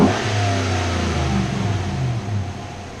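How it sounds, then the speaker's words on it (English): A 2014-or-later Chevrolet Silverado pickup with an aFe Momentum GT Pro Dry S cold air intake revs up from idle, giving a steady, deep engine drone with a slight rise in pitch, close and continuous. "give her a rev."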